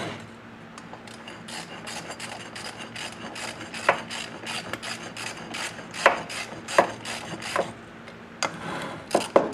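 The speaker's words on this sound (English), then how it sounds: "Just start threading your bolts back in." Bolts being threaded into the power steering pump of a 1994 Ford Ranger 4.0 V6, heard as close, continuous metallic scraping and rasping with repeated rhythmic clicks and taps over a faint hum.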